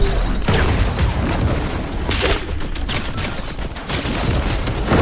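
Rapid, dense gunfire from a video game match, continuous volleys of shots and bursts filling the whole stretch at close, loud level with no talk over it.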